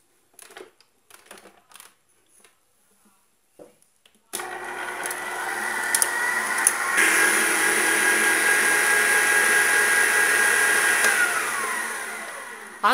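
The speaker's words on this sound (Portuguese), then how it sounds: "E eu vou começar aqui batendo o meu chantilly na velocidade 2 por 3 minutinhos." Electric mixer whipping cream at speed 2 for homemade ice cream, a steady loud whirring motor hum that starts suddenly after a few quiet handling knocks and runs on close and constant.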